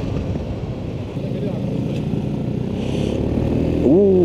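Loncin VOGE motorcycle ridden on a cold day: a steady, close engine drone with wind rush that builds slightly in loudness throughout.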